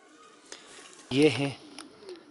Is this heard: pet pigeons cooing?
yes